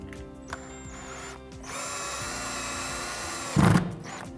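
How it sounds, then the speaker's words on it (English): A power drill drives a screw into wall trim during a marker wall installation. The motor whines steadily for about two seconds, then stops with a short thud; no one speaks. "First, we're going to just run a screw in to our trim."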